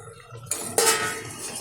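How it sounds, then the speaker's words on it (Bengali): A lid is lifted off a cooking pot of vegetarian green jackfruit curry, giving a few sharp metallic clinks and clatters against a low kitchen background, with a final knock near the end. "ঢাকনাটা তুলে দিচ্ছি।"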